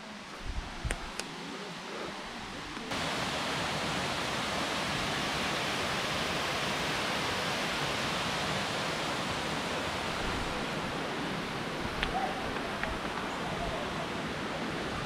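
Thirumoorthy waterfall, also called Panchalinga falls, gives a dense, steady roar of falling water that swells louder after the first few seconds and then holds unbroken.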